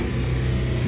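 A 2008 Dodge Avenger with a 2.4L engine, fresh from a crankshaft position sensor replacement, gives a brief, loud, low rumble as it accelerates, close up, with no talk.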